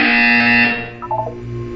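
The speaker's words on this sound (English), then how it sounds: "When you hear the buzzer, look up at the ceiling." Portal 2 test-chamber buzzer: a loud, harsh, steady electronic buzz lasting under a second, then cutting off to fainter tonal chimes.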